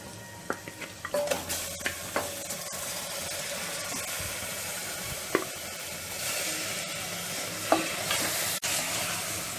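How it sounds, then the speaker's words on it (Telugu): Mutton for gongura curry stirred and fried in a pan, a continuous sizzle broken by sharp scraping clicks of a spoon against the pan, close and without speech. "బాగా కలుపుతూ 2 మినిట్స్ వేయించుకోవాలి"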